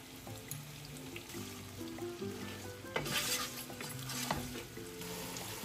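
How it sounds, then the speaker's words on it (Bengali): Onion fries in a pan with cinnamon, bay leaves and salt, a soft sizzle with occasional stirring under quiet background music. "পেঁয়াজটাকে নরম করার জন্য দিয়ে দিচ্ছি একটু লবণ।"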